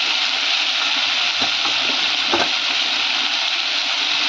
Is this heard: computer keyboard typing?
no